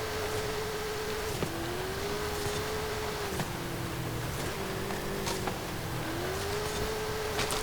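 A 2018 Porsche Macan LPR Rally Raid off-roader drives in Forza Horizon with a steady, loud engine drone that holds pitch, dips briefly at a few shifts and climbs back, continuous throughout with no talking.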